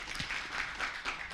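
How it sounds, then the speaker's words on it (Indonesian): A university orientation audience applauds: a soft, continuous wash of clapping from many hands at moderate distance that swells and eases in gentle waves. "Tepuk tangan teman-teman untuk Ibu Dr."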